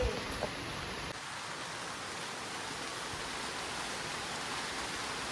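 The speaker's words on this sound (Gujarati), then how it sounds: "વરસાદ ચાલુ થઈ ગયો છે" Steady, even rain pours down continuously on a garden, a broad hiss close by, briefly with a faint tone at the start and no voices.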